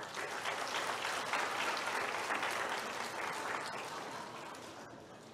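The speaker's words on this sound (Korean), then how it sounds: "자, 박수 쳐주겠습니다." A church congregation claps warmly for young members during a Sunday service, dense sustained applause from a large room that holds strong for several seconds and then gently tapers off near the end.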